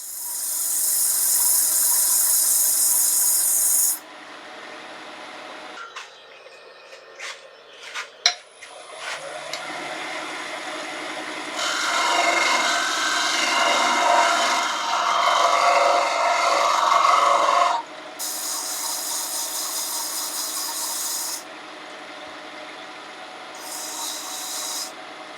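A wooden sphere box spins on a lathe while a turning tool refines its outer shape, giving dry scraping and rubbing in uneven bursts, with a few sharp knocks and pauses between passes; no one speaks.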